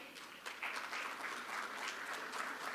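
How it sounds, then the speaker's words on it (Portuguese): An audience at a Brazil–Chile energy and minerals forum applauds a panelist being introduced, producing a soft, fairly distant patter of clapping that swells slightly and holds steady for a few seconds. "Un aplauso para él."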